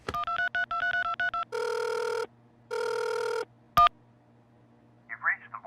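Outgoing phone call: a short run of rhythmic dial tones, then two long electronic ringback bursts separated by silence, a sharp click as the line connects, then faint noise.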